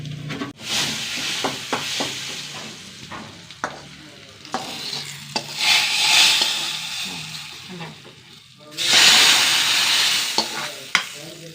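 Chili powder hitting hot oil in a Kerala-style curry, loud sizzling and hissing with scraping stir strokes, swelling in bursts as the spice is stirred in, with a voice briefly talking over it.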